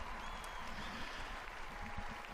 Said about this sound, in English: they all stand and continue applauding and thanking the Pope for his beautiful address to them.